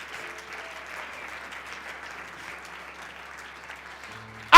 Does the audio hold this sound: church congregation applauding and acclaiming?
yes